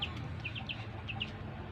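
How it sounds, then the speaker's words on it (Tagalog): A chick being put into its cage, with a few soft, high chirps and clucks scattered through under a steady low background rumble, fairly faint. "Pinasok ko yung sisiw sa kulungan niya."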